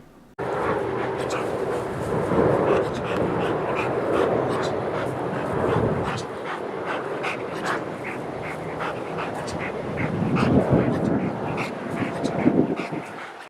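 A dog huffs and whimpers in short frustrated breaths, never managing a full bark, with steady background noise throughout.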